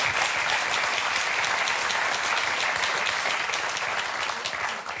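A studio audience applauds on a French football talk show, giving steady, dense clapping at moderate level that holds evenly and tapers slightly at the close, with no talking heard.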